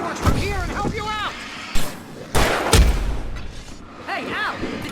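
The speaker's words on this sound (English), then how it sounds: "I can set off more of the fireworks from here and help you out!" Fireworks bursting in Alan Wake Remastered: several loud booming blasts land in the middle of the clip, set amid game voices and whooping, rising tones that overlap and mask parts of the explosions.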